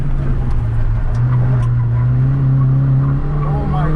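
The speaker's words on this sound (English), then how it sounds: "Oh my god, these tires make so much noise." A Honda Fit with a staggered tire setup runs an autocross course at Evergreen Speedway: a loud, steady engine drone with tires squealing near the end, while a person talks over it.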